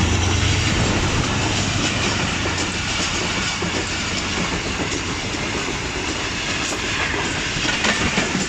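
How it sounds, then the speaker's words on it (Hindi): The Awam Express passes a station behind a ZCU30 locomotive, a loud, steady rush of rolling coaches with rhythmic wheel clatter and faint hiss, close by the whole time. "13 सीरियल का लोकोमोटिव आ रहा है, मतलब ZCU30 6313 और ये आ रही है 13 अप अवाम एक्सप्रेस"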